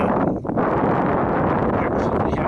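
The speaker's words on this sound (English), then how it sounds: "Actually, we have a headwind right now" Steady gusting wind buffets the microphone at an outdoor shooting range, a broad continuous rumble and rush with no distinct shots or voices.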